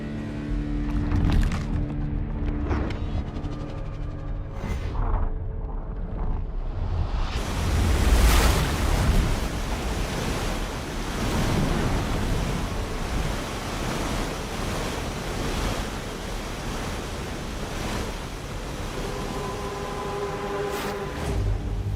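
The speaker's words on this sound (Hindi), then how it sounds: "पानी का बहाव तेज है" Strong, fast-flowing floodwater roars steadily around bridge pillars, a dense continuous rush of broadband noise that grows louder after the first few seconds and holds without pause, with no voices.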